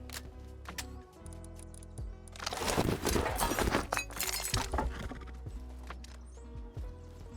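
Horse hooves clip-clop amid a loud Rust video game soundscape with music and a burst of crashing noise, the hoofbeats fairly close.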